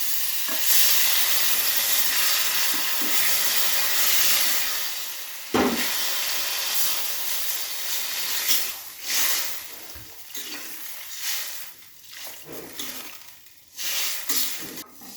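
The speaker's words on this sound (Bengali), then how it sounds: "এখন আমি জল দিয়ে দেবো" Water is poured into a hot pan of spiced potato and eggplant cooked for a fish curry, giving a loud steady sizzle and steam hiss that fades into bubbling and occasional stirring clatter.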